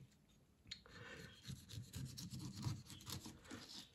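A knife slices down the sides of a pineapple, making close rasping, scraping cuts through the tough rind in a series of short strokes.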